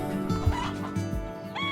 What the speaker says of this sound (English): The other crows that you hear in the background are from my Polish chickens